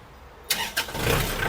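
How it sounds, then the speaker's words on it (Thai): A used Kubota L5018 tractor's diesel engine cranks and catches after a quiet start, then settles into a steady, rumbling idle close by. "เครื่องยนต์นะครับสตาร์ทติดง่ายนะครับ เสียงเครื่องปกตินะครับ"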